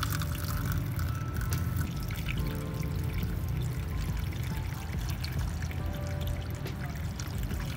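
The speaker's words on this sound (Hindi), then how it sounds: "चलो जी पानी जाने के अंदर सारा डाल दो पानी।" Water poured steadily into the catalytic converter of a 2021 Suzuki Alto VXR 660cc during a DIY cleanup, a continuous close pouring and splashing with broadband noise and no talk over it.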